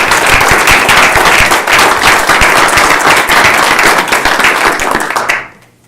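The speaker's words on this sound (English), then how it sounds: "certainly want to give a round of applause for Tony's award as well." A room full of people at a county board of commissioners meeting gives a round of applause for a colleague's award: dense, loud clapping holds steady for about five seconds, then quickly dies away.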